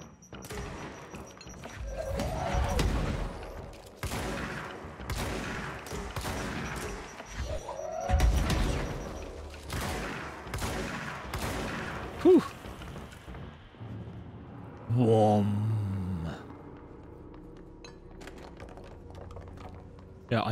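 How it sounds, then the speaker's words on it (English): Rapid bursts of enemy grenade fire during a fight in the video game Control, a fast run of sharp thuds and cracks in the first half, then scattered impacts amid fainter game effects. "he's firing a lot of grenades."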